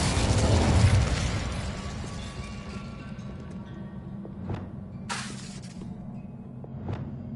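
A fire spell is cast in the video game Hogwarts Legacy: a loud burst with a whooshing flare up front, fading into a low rumble, then a few sharp magical pops and crackles.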